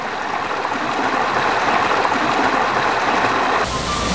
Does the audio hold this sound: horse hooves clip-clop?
no